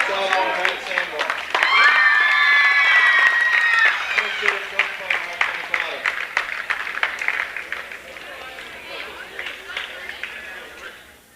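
Near-capacity crowd at a boys varsity high school basketball tip-off game, cheering, shouting and clapping loudly and fading toward the end, with a whistle and an announcer's voice over it.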